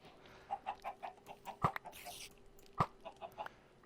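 Chickens cluck in the video game Minecraft in a quiet series of short, evenly spaced clucks, with two brief louder clicks cutting through the pattern.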